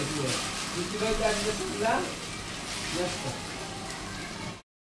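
A wheat and potato paratha fries in hot oil with a steady, close bubbling sizzle and hiss, a brief gurgle near the middle, and the sound cutting off abruptly just before the end.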